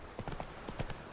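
Horse hooves clip-clopping in a video game, a quick run of light rhythmic hoofbeats, faint and brief.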